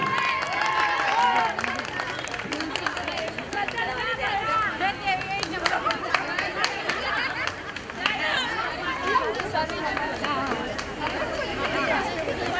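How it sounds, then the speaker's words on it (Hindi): An audience at a certificate and award ceremony claps steadily through a lively hubbub of chatter, with voices talking over the applause throughout. "जोरदार तालियों से स्वागत कीजिए।"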